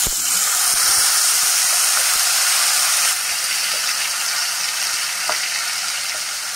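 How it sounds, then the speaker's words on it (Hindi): Onion paste hits hot oil in a pan with four cloves and four black peppercorns, a loud, steady, close frying hiss that barely changes throughout, with occasional faint stirring scrapes. "इसमें हम प्याज का पेस्ट लिए थे, ये भी डाल देंगे"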